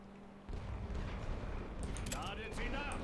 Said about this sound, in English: Oh, here comes artillery.